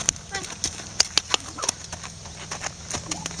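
A horse's hooves clip-clop in a scattered rhythm of sharp close strikes as it is lunged, with a handler talking over them.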